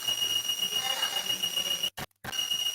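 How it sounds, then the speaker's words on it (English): An IoT soil moisture sensor's buzzer sounds as a steady high electronic tone, faint beneath room noise, cutting out briefly near the end before resuming. "the buzzer is activating"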